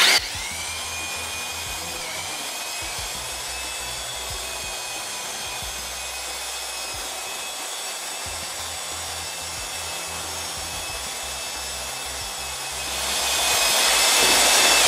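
A drill with a mixing paddle churns thinset tile mortar in a bucket, a steady high-pitched whine with a gritty scraping undertone that runs continuously and grows louder near the end.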